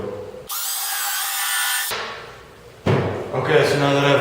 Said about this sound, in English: now that I've got that drilled